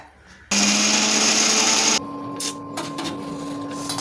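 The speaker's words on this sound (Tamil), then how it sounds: "பூண்டா அரைச்சிக்கலாங்க" Mixer grinder grinds garlic for spicy kara chutney, a loud, steady motor whir that starts suddenly, runs about a second and a half, then stops and leaves quieter kitchen noise.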